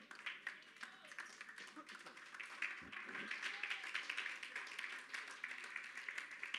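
A church congregation claps together during a worship service, a steady, dense wash of applause filling the room from start to finish, with voices mixed in.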